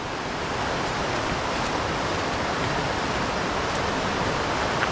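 Rough, rushing river water after high winds roars steadily throughout, a dense broadband wash with no pauses, close and loud.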